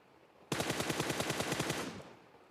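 A rapid burst of automatic gunfire in PUBG Mobile on the Erangel map, killing a bot: about fifteen evenly spaced, loud shots fired in a continuous string lasting roughly one and a half seconds, then stopping abruptly.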